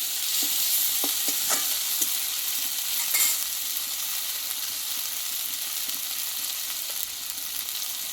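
Ground spice paste sautéing in a pan with soybeans being cooked, a dense steady sizzle close by, broken by a few soft scrapes and taps of a stirring spoon, without any voices.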